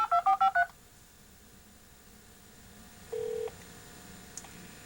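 A 300 baud modem tone-dials a bulletin board number, giving a quick burst of several touch-tone beeps, then a quiet pause and a short steady tone, all faint over low background hiss.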